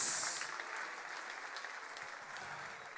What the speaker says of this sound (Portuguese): dê um brado de glória e aplauda o nome do Senhor